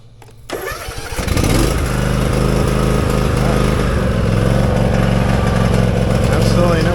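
A Cub Cadet riding mower with a new lithium battery cranks briefly, catches, and settles into a loud, steady idle close by.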